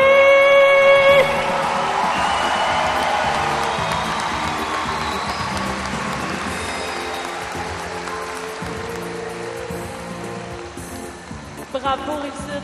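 Crowd at the closing ceremony of the 59th Finale des Jeux du Québec cheering and shouting in a loud, sustained roar that fills the whole stretch, easing slightly toward the end.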